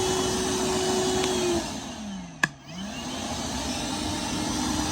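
A Milwaukee M12 cordless vacuum runs steadily and loud at close range, its motor whine dipping briefly mid-clip before recovering to a constant roar with no talk.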